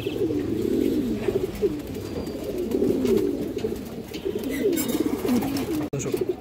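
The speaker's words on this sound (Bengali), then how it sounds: "খুবই সুন্দর একটা মাদি কবুতর" Pigeons, including a fine female high-flying bird, coo in repeated low, throaty rolling phrases close by, continuing throughout with a brief clatter near the end.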